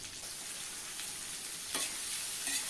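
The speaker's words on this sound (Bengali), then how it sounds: "পটল আর আলু একসাথে ভাজার সময়" Pointed gourd and potatoes fry together in hot oil, a continuous, close crackling sizzle with a brief spatula scrape partway through and no voices.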